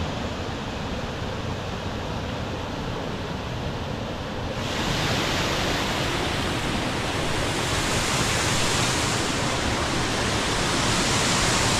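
A waterfall along a gorge trail near Ithaca, New York, gives a constant, loud rush of falling water that grows fuller partway through and continues without a break or any voices.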